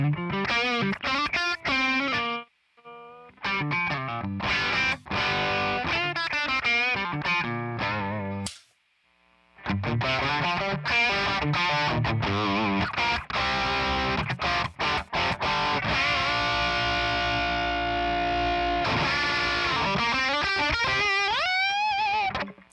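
Electric guitar played through a red RAT-style distortion pedal on the neck pickup with the volume rolled down, giving a cleaned-up, lightly driven tone; chords and single-note phrases ring out close and loud, with two brief pauses, and no talking.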